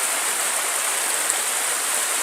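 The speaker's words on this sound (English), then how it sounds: "Made it to the river." A river flowing through a huge cave gives a steady, loud, broadband rush of water that holds unchanged throughout, with no voices over it.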